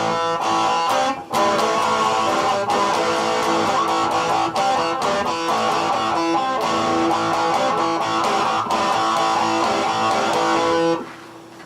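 An electric guitar runs through a grunge distortion pedal with the effect turned down low, playing a song with dense, sustained chords that ring continuously for about eleven seconds before cutting off, no voice present.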